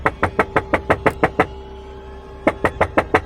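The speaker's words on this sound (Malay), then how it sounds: "dia terkejut bila mendengar pintu diketuk bertalu-talu" Loud, rapid knocking pounds on a door as an audio drama effect: a quick run of about eight sharp knocks, a short pause, then six more at the same pace over a low hum.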